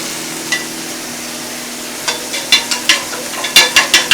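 Tomato sizzles in a pan for an egg sauce served with white yam, with a faint steady fry under a series of close, sharp clicks and scrapes of stirring that come in a quickening rhythm toward the end.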